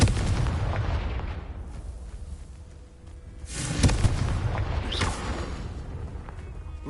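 Fiery Confringo spell blasts in the Hogwarts Legacy video game on PS5, a couple of booming impacts with crackling bursts over a rumbling game soundtrack, moderately loud and without speech.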